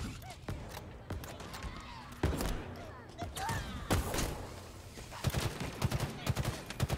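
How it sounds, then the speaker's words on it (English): Rapid gunfire from the video game Halo Infinite crackles in uneven bursts and single shots, mixed with thumps and game effects, while a player talks over it. "Oh, my gunshots are all over the place."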